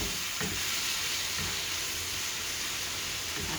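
Octopus cooking in a pan at home, a steady loud sizzle and hiss with occasional stirring scrapes, continuous and close, no talk.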